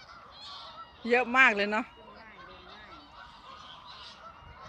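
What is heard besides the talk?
ducks honking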